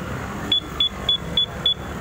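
Car alarm remote locking a vehicle, five short sharp beeps evenly spaced about a third of a second apart, close and clear over a low background hum.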